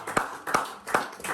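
A small group claps at an engagement party, a few slow, spaced claps at close range with light background murmur.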